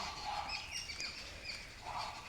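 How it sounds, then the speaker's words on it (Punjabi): Several birds chirp and call in quick bursts in the morning under cloudy, rainy skies, fairly close, over a soft steady outdoor background. "ਸਵੇਰ ਸਵੇਰ ਪੰਛੀਆਂ ਦੀਆਂ ਆਵਾਜ਼ਾਂ ਵੇਖੋ ਕਿੱਡੀਆਂ ਸੋਹਣੀਆਂ ਲੱਗਦੀਆਂ"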